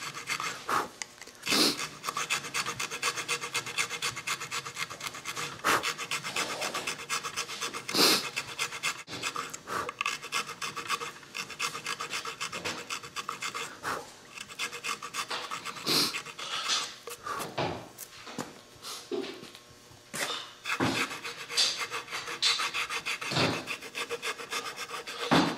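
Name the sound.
rough file rasping wood of a guitar headstock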